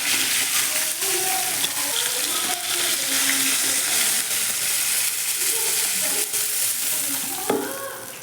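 Fish frying in hot oil in a pan makes a loud, steady sizzle close up, with occasional light clinks and scraping as pieces are moved, and a sharp knock near the end.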